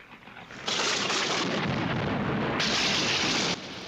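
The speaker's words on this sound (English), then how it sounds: "Oh, explosion! I like me some explosions in there." A sci-fi TV explosion in Space: 1999 erupts as a loud, sustained broadband roar with rumbling low end, swelling again midway and holding steady for about three seconds before cutting back to a quieter rumble.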